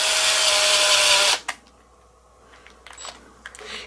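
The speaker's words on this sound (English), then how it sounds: "hold it in your hand while you drill it" A power drill whines loudly for just over a second while drilling into a hand-held guitar knob, then stops abruptly, followed by a few faint clicks and handling noises.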